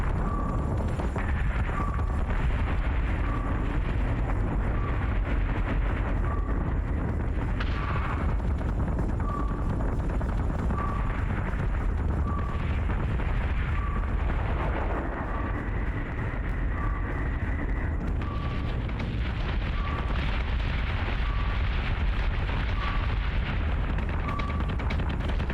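Continuous loud space-combat din of gunfire and explosions in the Battlestar Galactica: Deadlock strategy game, dense booming and crackling with a repeating electronic beep running through it and no letup.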